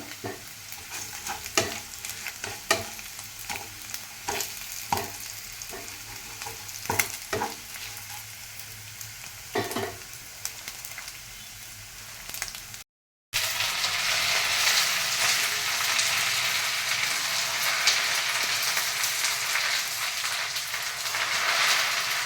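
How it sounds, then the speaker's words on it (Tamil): Moringa leaves are sautéed with tamarind in a pan, with rhythmic spatula scrapes over a sizzle, then a brief gap followed by a louder, denser, steady frying hiss. "இது ஒரு பத்து நிமிஷம் போல் நல்லா வதங்கிச்சுனா தான் கொஞ்சம் நல்லாயிருக்கும்"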